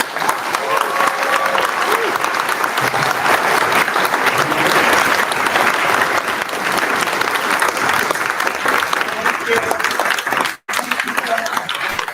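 A forum audience claps in a sustained, even wash of applause for about twelve seconds, with voices faintly under it and a sudden brief dropout near the end.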